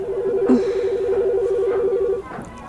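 A telephone rings with a steady, warbling electronic tone for about two seconds, fairly close and clear, over a faint background of room noise.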